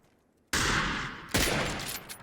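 Gunfire erupts in PUBG, a sudden loud burst after near silence, then a second sharp volley a moment later, both ringing out and tailing off, with no talk.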